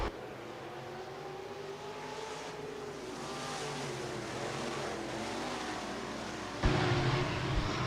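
USRA B-Modified dirt race cars at Rapid Speedway roar steadily around the track in a heat race, engine drone swelling and shifting as the pack passes, with a louder surge near the end.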